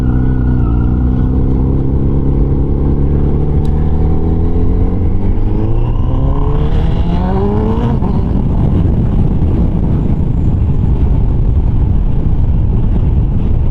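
An ECU-tuned Honda CBR1000RR SP1 screams up through first gear, its engine pitch climbing steeply and loudly for about eight seconds before settling into a roaring, wind-buffeted drone close by.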